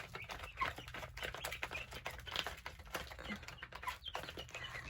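Hungry backyard chickens cluck and murmur continuously, a busy close chorus of short overlapping calls with low outdoor rumble beneath.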